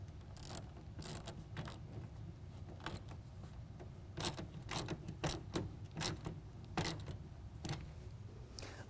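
A 9/16 wrench tightening the clamp bolt on a hard roll-up tonneau cover fitted to a 2022 Ford Maverick bed: faint, repeated ratcheting clicks in an irregular rhythm over a low background hum.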